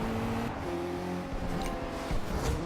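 Nissan GT-R engine in the racing game Forza Horizon 2, a steady mid-level drone with shifting revs and a few gear changes, played alone without talk.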